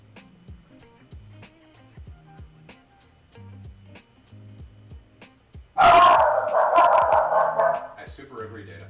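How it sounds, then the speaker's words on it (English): A dog barks loudly in a run of sharp, repeated barks that come close and stand out clearly from quieter background sounds. "Thanks for barking really loud."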